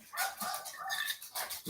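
Several dogs bark in a quick, continuous run of overlapping yelps and barks, fairly loud and steady for under two seconds, set off at night by another dog being walked outside.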